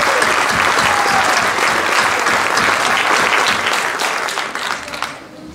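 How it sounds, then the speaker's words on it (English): Applause from a crowd at a high school athletic banquet in a cafeteria, a dense, steady clatter of many hands that holds loud and even, then thins and fades near the end. "Let's give her a hand."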